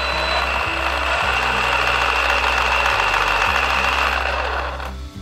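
A Losi Lasernut RC truck on a 3S battery runs its electric motor and gearing in a steady high whine over a buzzing, stepped low hum that shifts pitch a few times, close up, easing off at the end.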